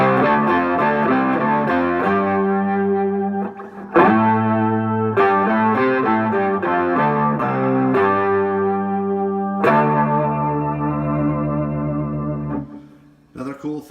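An instrument played through an effects rig with low octave, gain and chorus, emulating an organ, rings out in thick, sustained distorted chords with swirling modulation, changing every few seconds and heard alone.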